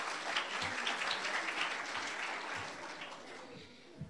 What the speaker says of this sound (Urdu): آپ سب کی بھرپور تالیوں میں